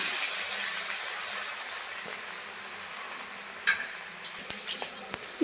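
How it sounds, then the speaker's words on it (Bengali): Battered boiled taro fritters frying in oil in a wok give a steady, close sizzle throughout, with a few sharper crackles and pops toward the end. "এখন আমি ভেজে নেব। দিয়ে দিচ্ছি কড়াইয়ে।"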